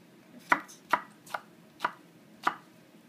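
A knife chops through food on a cutting board in a kitchen while a Cuban-style steak meal is cooked, giving five crisp, evenly spaced thuds close up in an otherwise quiet room.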